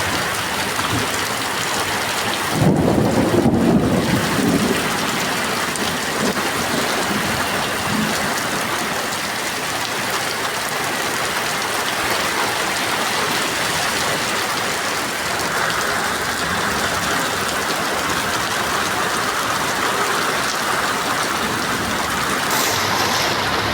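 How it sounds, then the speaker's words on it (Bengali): Heavy rain pours down in a dense, steady hiss that stays loud and continuous from start to finish, with a brief louder rush early on and no voices. "অনেক জোরে জোরে বৃষ্টি হচ্ছে।"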